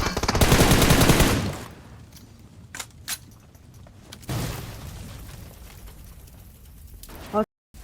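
Gunfire in the mobile battle royale game PUBG Mobile: a loud, dense burst of automatic fire in the first second and a half, then scattered shots and rattles, with another burst near four seconds, under voices.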